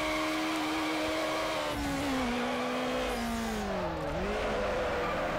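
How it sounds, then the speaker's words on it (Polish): Honda S2000 engine howling through a drift in the NFS Underground racing game, a loud sustained rev that dips and climbs as the car slides, alone without talk. "To będzie taki dziewiczy drift w tej Hondzie, bo jeszcze nią nie driftowałem ani razu."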